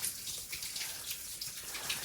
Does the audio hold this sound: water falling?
yes